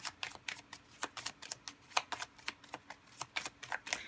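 Tarot cards are shuffled and drawn in quick, crisp flicks and riffles, a close run of sharp papery snaps in an irregular rhythm with no voices over them.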